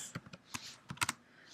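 Computer keyboard typing a CSS comment, a short, close run of sparse, uneven key taps with a few louder clicks near the end.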